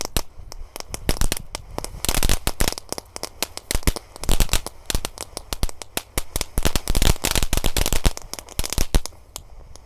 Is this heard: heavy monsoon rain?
no